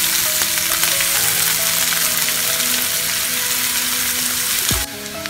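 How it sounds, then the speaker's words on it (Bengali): Chopped onions sizzle and fry steadily in hot oil in a pan for a Bengali-style omelet curry, a continuous close crackling hiss that drops off sharply near the end. "পেঁয়াজটা ভালোভাবে ভেজে নেব।"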